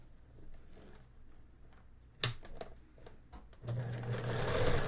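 A sewing machine stitching fabric for an iPad cover. Scattered mechanical clicks and a sharp clack come first, then the motor settles into a loud, steady whirring run.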